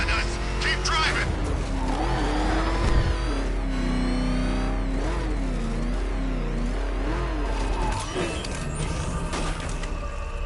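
A car engine in a Batman video game roars and revs continuously, its pitch wavering up and down with tire squeal mixed in, and voices are heard over it.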